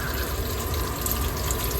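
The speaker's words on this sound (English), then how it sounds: "Water's draining fine here." Water drains down a bathroom sink after a faucet replacement, a steady, close, full rushing and gurgling flow that carries on without a break.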